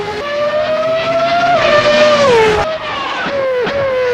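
Williams FW14B Formula 1 car with a normally aspirated engine in the Assetto Corsa racing game at Adelaide, a loud, close high-pitched engine wail rising through the gears, then a sharp cut and lift-off before revving again.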